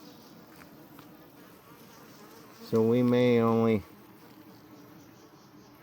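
Honey bees, including large drones, buzz around a hive on honey harvest day. A steady low hum runs throughout, and one close, loud buzz passes for about a second. Someone speaks briefly.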